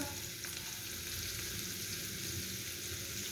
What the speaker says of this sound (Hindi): और चिकन को पकाएंगे हल्का सा, इसका कलर चेंज होने तक